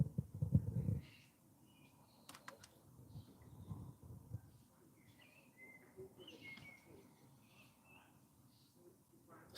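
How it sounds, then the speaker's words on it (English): A blackbird sings in short, clear phrases, faint and a little distant, with other soft chirps between them. A brief low rumble opens the scene. "That blackbird's being a bit louder than anything else at the moment."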